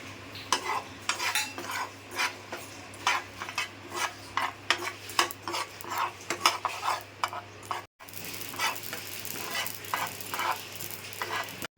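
Poppy seeds dry-roasting in a pan for a Malvani chicken curry, stirred with a spoon in quick repeated scrapes and clinks against the metal, with a faint background hum and no talking.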